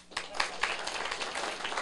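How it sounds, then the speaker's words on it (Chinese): An audience at a Taiwanese civil government seminar claps hands in a brief round of applause: quick, scattered claps blending into a steady patter that holds moderately loud for about two seconds. "好，跟他拍手"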